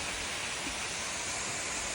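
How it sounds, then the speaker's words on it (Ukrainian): Fountains and small waterfalls near a mountain house give off a steady, dense rush of splashing water that holds at an even level without pause. "насолодитись шумом е цих фонтанів, водоспадів цих"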